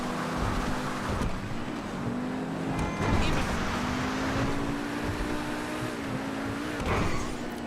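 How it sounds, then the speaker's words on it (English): A fast car in GTA 5 Online, without upgrades, roars at sustained high revs, the engine note rising and dipping with gear changes, loud and continuous. "this car is bonkers fast"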